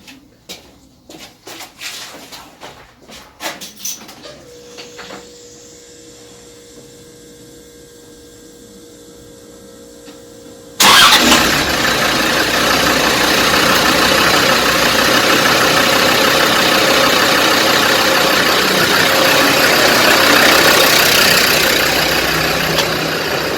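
A Land Rover Defender 110 engine turns over and catches after about eleven seconds of clicks and clatter, then settles into a loud, steady, close idle that runs to the end.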